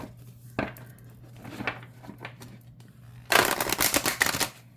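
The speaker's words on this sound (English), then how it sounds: "let's shuffle and pull a card." A few light card taps and slides, then a quick fluttering riffle as a deck of large, flexible symbol cards is shuffled, close up and fairly crisp.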